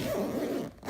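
A zipper is drawn shut along the fabric cover of a settee cushion, one quick continuous rasping pull heard up close, ending in a brief pause.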